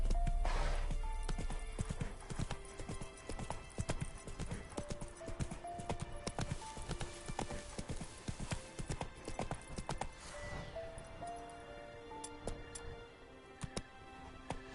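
Hooves of the horse in The Witcher 3 game beat out a quick, regular clip-clop gallop, loud and close, with a neigh early on and game music layered underneath.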